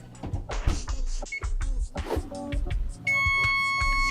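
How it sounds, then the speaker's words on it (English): An oven timer beeps amid clattering kitchen noises, then a steady, sustained tone holds to the end. "That timer sounds sick."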